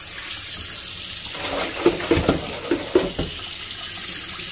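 Tap water runs over freshly boiled meat to cool it after draining, a steady close hiss with a few splashy knocks and clatters partway through.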